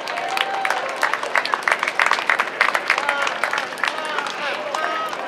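Crowd applause for guests at the opening ceremony of the National City Mariachi Fest, a steady wash of clapping over about five seconds, with whoops and excited voices mixed through it.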